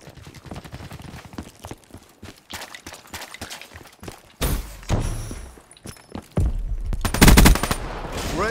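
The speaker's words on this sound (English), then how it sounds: "they're gonna get slowed down by the Guardian and then just get destroyed by the Sentry" In Black Ops 3 gameplay, a sentry gun fires bursts of automatic gunfire at enemies, starting as rapid ticking shots and building to loud, dense volleys with heavy thuds.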